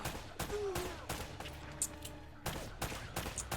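Rapid bursts of gunfire ring out while shooting through a horde of enemies in the video game Uncharted: Drake's Fortune, sharp repeated shots in quick succession with brief pauses, loud and close, over faint background game sound.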